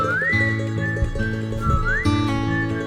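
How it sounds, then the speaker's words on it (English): Melodic whistling in a song, rising and sustained notes over guitar and steady instrumental backing, carrying clearly throughout. "Oh, the whistling?"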